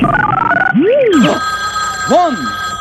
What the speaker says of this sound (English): One ring. That's a telephone.